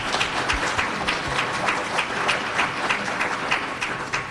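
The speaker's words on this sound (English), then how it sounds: "How about a round of applause for our panelists?" Guests at a chamber of commerce luncheon applaud a panel of elected officials, a moderately loud, continuous round of clapping from a room full of people, steady throughout with no voices over it.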